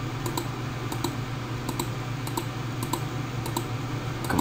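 Rapid mouse clicks mark points around a turf area while measuring it on a computer, a steady series of sharp, faint ticks over a constant low background hum.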